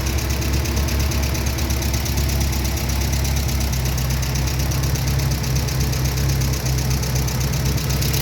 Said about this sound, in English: Look at how the engine is idling.